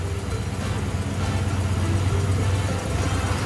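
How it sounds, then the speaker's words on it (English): A small block Ford V8 in a Lyman boat idles with a steady low rumble and a constant broadband roar, close and loud with no talk. "We started and ran the small block Ford engine"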